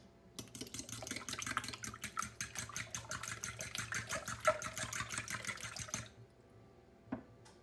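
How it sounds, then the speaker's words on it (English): Eggs are whisked in a bowl with quick, steady clicking strokes at a fast even rhythm, close and fairly soft, stopping abruptly, followed by a single faint knock. "I'm just gonna go ahead and give those a quick little stir"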